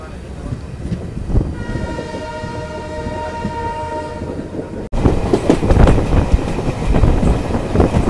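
A passenger train on the Agartala to Silchar line rumbles steadily along the track, heard from inside near an emergency window, with a long horn sounding for a few seconds before the loud running noise grows rougher.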